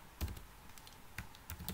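Computer keyboard keys tapped while typing code, a few sparse, quiet clicks in short bursts, close and alone in a quiet room.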